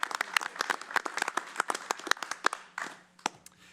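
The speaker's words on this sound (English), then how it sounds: "And let's give a round of applause to Sound Equine Options for incredible" A small, thin round of hand claps from attendees at a county commissioners meeting, individual claps distinct and sparse, tapering off toward the end with a few lingering claps.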